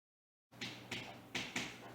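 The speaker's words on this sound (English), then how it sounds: "My cats are currently beating up this green glass door because there's something behind it." Cats bang repeatedly against a green glass door, giving four sharp knocking thuds at irregular intervals over low background noise.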